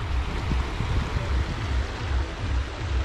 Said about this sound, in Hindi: ये पानी की जो आवाज़ है